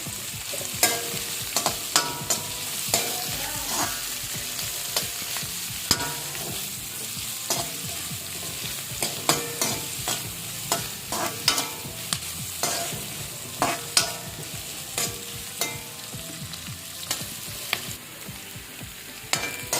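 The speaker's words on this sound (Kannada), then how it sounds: "ಇವಾಗ ಇದಕ್ಕೆ ಹಸಿಮೆಣಸಿನ್ಕಾಯಿ ಹಾಕ್ತಾಯಿದ್ದೀನಿ, ಬೆಳ್ಳುಳ್ಳಿ ಹಾಕ್ತಾಯಿದ್ದೀನಿ, ಫ್ರೈ ಮಾಡೋಣ." Green chillies and garlic fry in a pan for tomato chutney, a steady close sizzle with frequent scraping strokes of a spoon stirring throughout.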